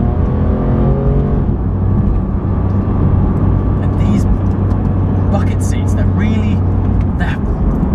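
A Porsche 991 GT3 engine roars steadily at high revs, loud and close, with a droning growl and brief higher whines near the end.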